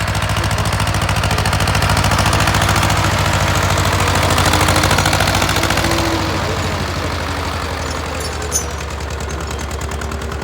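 Escort 345 tractor engine running steadily for about ten seconds, a loud, close, rapid diesel chugging that holds a constant pace with no voices over it.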